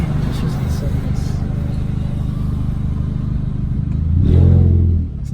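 A car engine with a newly installed downpipe idles in neutral with a deep, steady exhaust rumble, then swells into a louder, brief rev near the end before settling back down, recorded up close.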